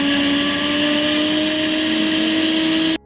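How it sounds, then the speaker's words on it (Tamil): A mixer grinder jar whirs loudly and steadily while grinding unpeeled garlic and a little ginger, a high, constant motor whine that cuts off abruptly at the end. "தோல் உரிக்காத கட்டி பூண்டும் கொஞ்சமாக இஞ்சியும் சேர்த்து மிக்ஸி ஜாரில் போட்டு நல்லா நைஸாக அரைச்சிக்கலாம்."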